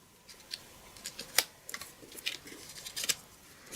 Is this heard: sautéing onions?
no